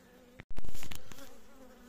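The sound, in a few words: honeybees buzzing around queen bee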